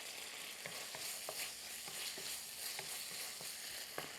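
Steak sizzles steadily in a hot pan with a really hot sticky sauce, a constant loud frying hiss broken by soft, regular scrapes and stirs, with no voices.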